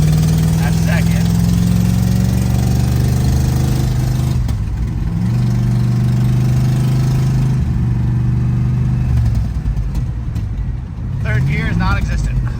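A V8-swapped Chevy S10 truck, long left sitting, revs loud and close under hard throttle during a kickdown. The steady engine drone climbs and dips as gears shift, and a voice talks over it in spots.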